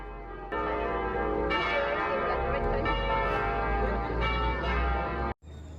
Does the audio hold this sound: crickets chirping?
no